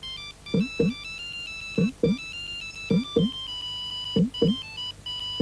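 A mobile phone ringtone melody from a Turkish TV advertisement plays clearly on its own, its bright synthesized tune repeating in short phrases with a low chirpy accent marking each bar.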